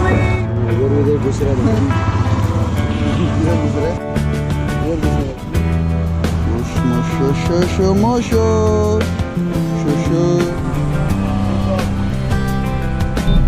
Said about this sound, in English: We are in Bihar, Muzaffarpur, and imagine how much traffic we have